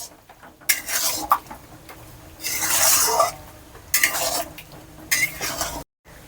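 Metal spoon scraping and clattering in a wok while prawns and ridge gourd are stirred with spice paste, in several loud bursts separated by short pauses.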